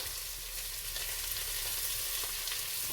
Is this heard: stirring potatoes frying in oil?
yes